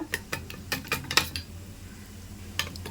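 Paneer momo filling being stirred with a spoon after honey is added, giving a series of light clinks and scrapes against a bowl, close and fairly soft, with a pause before one last tap.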